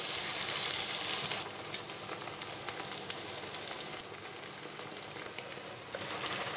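An egg sizzles and crackles steadily in hot oil in an uncovered pan, a continuous close frying hiss with no talking.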